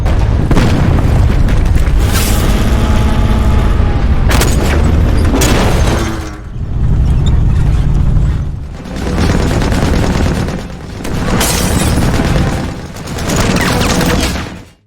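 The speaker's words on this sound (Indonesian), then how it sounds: "Jerman tidak tinggal diam dan membalas tembakan itu dengan meriam dari tank Jerman" Tank cannon fire and explosions from a battle between Soviet and German tanks in a war film, heard as a loud sustained booming barrage followed by several heavy, rolling blasts spaced a couple of seconds apart.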